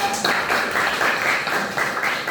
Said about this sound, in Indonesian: tepuk tangan untuk Herdia